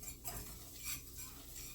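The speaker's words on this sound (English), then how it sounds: "basically just stir it around until it cooks a little bit" A utensil stirring butter and flour in a pan on a stovetop, soft continuous scraping and light sizzling, quiet and close with no talking.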